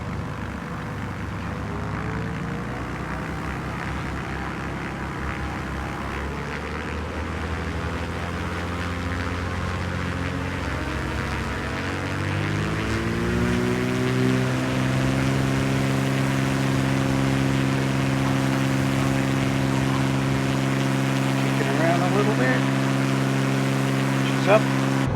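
A Yakovlev Yak-9 piston engine in Microsoft Flight Simulator 2020 drones loud and steady from inside the cockpit, its pitch climbing and settling as power builds for takeoff, with no talk over it.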